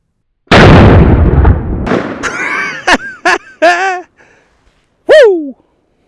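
A Ruger New Model Super Blackhawk Bisley .454 Casull revolver fires a 240 grain Hornady XTP round at about 5 yards, a single loud sharp blast with a ringing decay, followed by short bright metallic clinks and pings.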